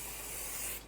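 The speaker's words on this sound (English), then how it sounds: "now we're going to spray our casserole dish" Cooking spray hisses into a yellow casserole dish in a kitchen, one steady close spray of just under a second that cuts off at the end.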